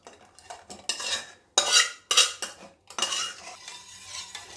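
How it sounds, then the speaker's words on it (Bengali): A spoon scrapes and clinks against a bowl as bael fruit pulp is stirred into cooled milk, several distinct bursts of stirring close by with short pauses between, no voices. "দেখুন বন্ধুরা কি সুন্দর বেলের সঙ্গে দুধটা আমি মিক্স করে নিয়েছি"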